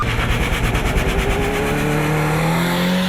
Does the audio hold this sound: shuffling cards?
no